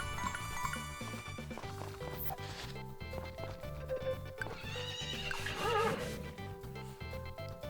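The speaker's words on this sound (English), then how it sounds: "you are gifted the horse from Thomas the Mayor" A horse in the Story of Seasons farming game gives a clear neigh over steady clip-clop hoofbeats and light game music.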